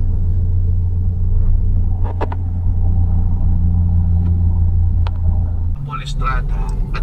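Deep, steady engine rumble from inside a car stuck in heavy traffic heading into BGC from Makati, close and continuous, with faint clicks and a brief voice near the end.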